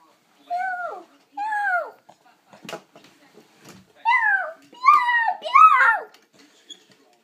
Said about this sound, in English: Are you meowing at the deers?